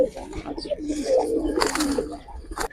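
Giribaz pigeons in a loft give soft, repeated throaty coos close by, with a few rustles and brief noises around them.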